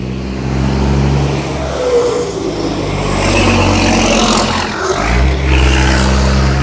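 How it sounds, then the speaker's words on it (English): A truck passes close by on the road with a loud, deep engine rumble that swells and shifts as it goes past, steady throughout with no talking. "truck was passing"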